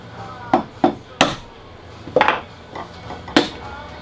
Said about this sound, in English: touch the clamp and whack it with a chisel